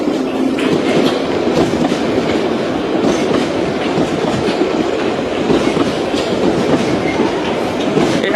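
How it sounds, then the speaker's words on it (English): London Underground Piccadilly line trains pass each other at Northfields station at night, a loud continuous rumble and clatter of wheels on track, close by and filling the whole clip. "a Piccadilly line service going to Cockfosters, and another Piccadilly line service going to Heathrow Terminal 5."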